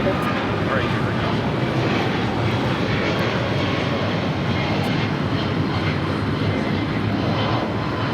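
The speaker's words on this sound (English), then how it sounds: "This is American Airlines Flight 60 taking off to Dallas Fort Worth on a 777-200 ER" An American Airlines Boeing 777-200ER takes off at LAX bound for Dallas Fort Worth, a steady broad jet roar heard from a distance, with no clear speech over it.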